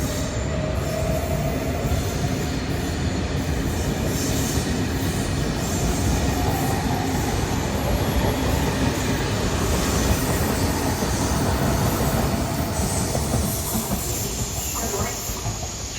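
A train rumbles steadily as it pulls into a station platform in Padova, Italy, with a continuous roar of wheels on track and faint squeals, no voices.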